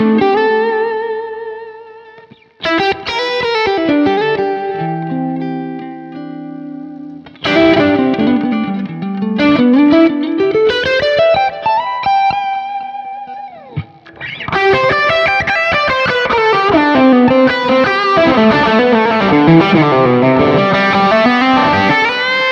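A distorted electric guitar plays a lead line with sustained, bending notes and fast runs, loud and saturated with some echo, no voices.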